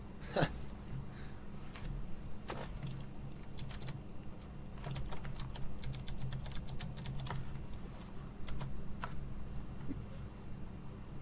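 Rapid clicking on a computer keyboard, typed in irregular bursts of sharp taps over a steady low background hum, with a faint voice now and then.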